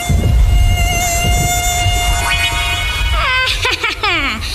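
Mosquito buzz in an Indonesian radio advertisement about dengue fever, a loud, close, high whine sustained for several seconds before a voice cuts in over it.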